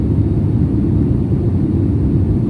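Inside a SriLankan Airlines airliner nearing Cochin airport, a loud, steady low engine and air rumble fills the cabin without pause or change, with no voices.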